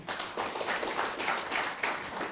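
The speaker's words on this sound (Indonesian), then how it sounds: "Tepuk tangan buat Tuhan kita" Congregation applauding during a Sunday worship service at GBI Katharizo church, a steady wash of many hands clapping for a couple of seconds, fairly loud and continuous.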